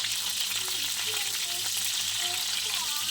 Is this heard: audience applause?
no